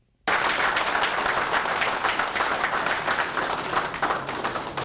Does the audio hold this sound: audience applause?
yes